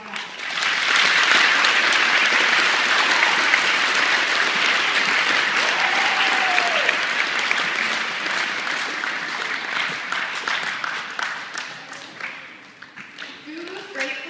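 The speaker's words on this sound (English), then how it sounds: "Let's give them a round of applause for that." A crowd at a Veterans Day program claps in a sustained burst of applause that fades out near the end, leaving a few scattered claps.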